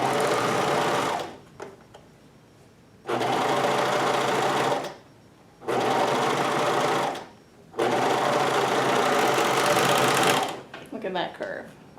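A Juki MO1000 serger stitches a curved edge in four loud, steady motor bursts of several seconds each, separated by short pauses, with a little handling noise at the end.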